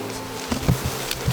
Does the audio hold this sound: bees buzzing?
yes